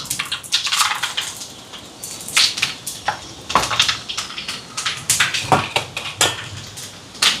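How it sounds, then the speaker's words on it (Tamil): Mustard seeds and fennel dropped into hot coconut oil, spluttering and popping in sharp irregular crackles close by, with a steady sizzle underneath. "இப்போ எண்ணெய் சூடாகிட்டு கடுகு சேர்க்குறேன், இதோட பெருஞ்சீரகம்"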